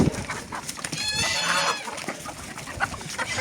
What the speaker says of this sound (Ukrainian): Вискакують наші кури.